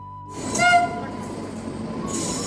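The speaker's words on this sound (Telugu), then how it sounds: "ట్రైన్ అయితే వచ్చేసింది" A passenger train pulls into a railway station at Eluru in India, a rumbling approach with a brief tonal horn-like note over steady rolling noise.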